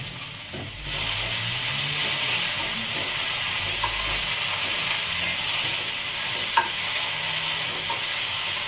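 Okra frying uncovered in an open pan on the stove, a steady broadband sizzle and hiss running throughout, with a few faint clicks and scrapes on top and no talking.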